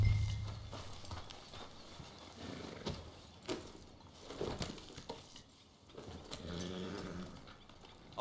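Steady clip-clop of horse hooves at a trotting pace in a video game, fairly close, with faint ambient background and no talking.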